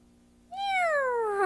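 A person vocally imitates a cat's meow, a single drawn-out, close, clear call that rises briefly and then slides down in pitch.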